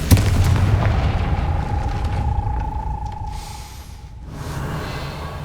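A Confringo fire spell blast in the Hogwarts Legacy video game opens with a heavy low boom, then a sustained whooshing rumble with a steady tone riding over it, before fading briefly and swelling again.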